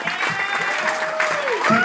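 Comedy-show audience clapping steadily in a dense, continuous wash of applause throughout, with a voice speaking over it.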